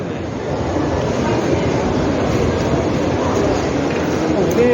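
A Meitetsu railway train rolls past in Nagoya with a steady, loud rumbling roar that holds continuously from near to end, while a voice speaks over the noise.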